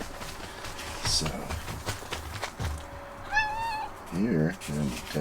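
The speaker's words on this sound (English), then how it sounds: "Alright, cat's joining us." A domestic cat meows twice near a tent in the desert, each short rising-and-falling cry standing out over soft rustling and movement noise.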